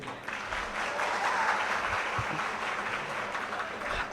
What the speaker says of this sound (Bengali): আমরা একসাথে আপনাদের জন্য এবং ছাত্র শিবিরের জন্য আমরা ডাকসুর পক্ষ থেকে করতালি দিচ্ছি